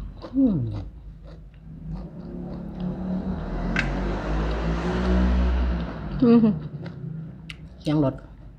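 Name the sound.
car passing by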